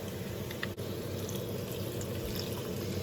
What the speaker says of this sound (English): now we're going to go in with our beef broth.